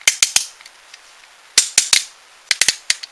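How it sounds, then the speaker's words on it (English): Sharp clicking bursts from ratchet joints on the upper legs of a Unique Toys Sharp Claw action figure, in three quick clusters of sharp clicks with short gaps between them, close up and loud. "Ratchet joints on the upper legs. They look like they're failing already. Or sound like they're failing."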